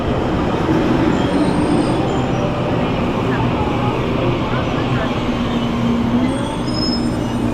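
Loud, continuous rumble and clatter of a crowded passenger train running on rails, heard from inside with wheels squealing faintly at times, and people talking under the noise.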